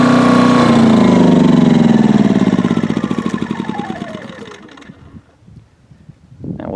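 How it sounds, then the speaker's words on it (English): A Duromax XP2000EH dual fuel inverter generator at full running hum is shut down after five hours: the steady drone falls in pitch and sputters into clattering pulses, then fades near to silence, close and loud. "It is very quiet while running. The fan's almost just as loud as the generator."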